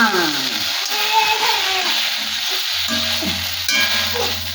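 Water splashed into a hot pan while cooking, giving a steady loud sizzle with stirring scrapes throughout.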